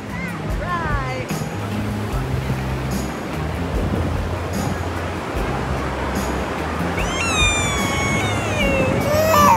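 Pacific Ocean waves wash in a steady, full roar of surf, with high thin cries from an infant rising over the water now and then.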